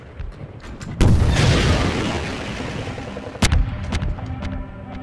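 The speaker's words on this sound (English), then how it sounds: "Let's just lay into them with rockets." Rocket launcher explosions in Half-Life 2 against Combine forces: two heavy, loud booms about two and a half seconds apart, each followed by a rumbling, crackling decay, with no talking.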